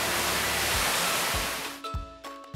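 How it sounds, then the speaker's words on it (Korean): Water flows and splashes loudly and continuously in Suncheon Bay National Garden. The rushing fades partway through, leaving a few low thumps. "물소리 너무 좋아요"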